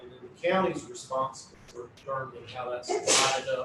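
A single sharp sneeze bursts out near the end, loud and close, following steady speech from someone talking in a public board meeting.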